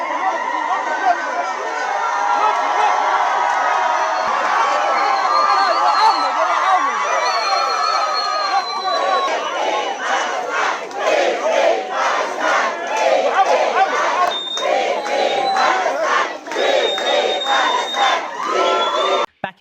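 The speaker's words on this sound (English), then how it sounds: "Chants of "Free Palestine" and applause echoed through the terminal as the activists appeared." A crowd of supporters in the Tunis airport terminal chants in unison for returning Gaza flotilla members, voices echoing loudly, then rhythmic clapping breaks out and joins the chanting.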